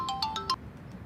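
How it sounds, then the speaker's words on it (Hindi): A phone ringtone plays in a home during a Turkish drama: a few bright electronic tone bursts repeat in a quick melodic pattern, then cut off, alone and fairly close. "फिर आ गया इसका फोन।"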